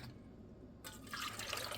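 Distilled 5% vinegar pours into a jar for pickle brine, a soft liquid trickle that swells into a brighter splashing stream partway through.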